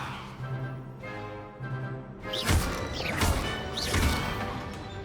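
The Levioso spell is cast in Hogwarts Legacy after a quiet stretch, bursting into a series of loud, crashing magical impacts with sharp rising swooshes, roughly three hits close together.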